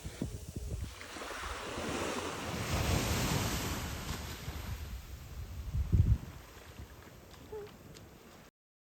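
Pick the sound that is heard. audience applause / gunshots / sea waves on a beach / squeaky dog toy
sea waves on a beach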